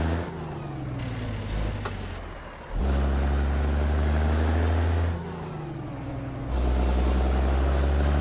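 Truck engine braking with a Jake brake in a driving game, a loud low rumbling drone that rises and falls in repeated stretches, engine pitch shifting between them.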